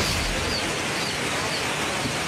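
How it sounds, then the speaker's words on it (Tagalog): Strong typhoon wind blows in a steady, loud broadband roar with no breaks, filling the whole stretch with no voices. "Humahampas na hangin"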